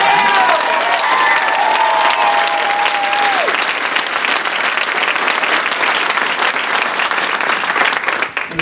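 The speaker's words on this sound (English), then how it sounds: "that has to be met with applause" A town hall crowd breaks into loud, sustained applause with some cheering, a dense wash of clapping that holds steady for about eight seconds before tapering off at the end.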